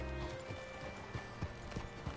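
Horse hooves clip-clop on the ground in a Western town in Red Dead Redemption 2, a quiet, uneven patter of steps at moderate distance, with a faint snort or whinny and no talking.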